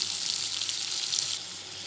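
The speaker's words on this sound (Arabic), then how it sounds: "نغطي عليه ونخليه يتقلى مليح." Food fries in a covered pan, giving a close, steady sizzling hiss that drops slightly in level near the end, with no talking.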